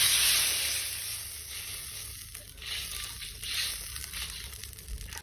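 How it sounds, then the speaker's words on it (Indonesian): Onions dry-frying without oil in a hot pan make a soft, uneven sizzle and hiss, fairly quiet, with faint scraping movement. "kita masukin aja bawangnya, kita gongseng-gongseng"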